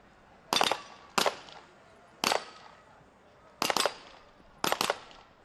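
Five sharp gunshots ring out across a SWAT team challenge course, each crack followed by a metallic ring as steel target plates are knocked down, spaced irregularly about a second apart, loud and close with no talk.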